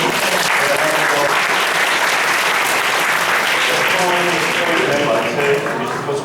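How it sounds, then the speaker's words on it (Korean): Loud, steady applause from a seated audience at a Korean baseball talk event, welcoming an MBC Sports Plus announcer, with a dense wash of clapping that lasts throughout and some voices murmuring underneath. "큰 박수로"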